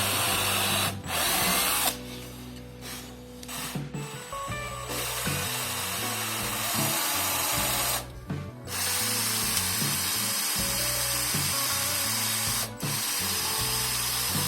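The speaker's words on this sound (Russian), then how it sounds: "И просверливаем дырочку." An electric drill bores a hole into a handmade wooden box, its motor whining loud and close in several long runs separated by brief pauses.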